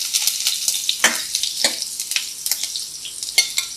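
Mustard seeds and shallots frying in hot oil for Kerala green gram curry, a bright continuous sizzle dotted with quick popping crackles and stirring scrapes, close and steady without speech.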